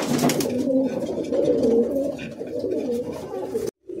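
Several pigeons coo in a loft near Kolkata, their low throaty burbling calls overlapping close and loud for a few seconds before a sudden brief cutoff.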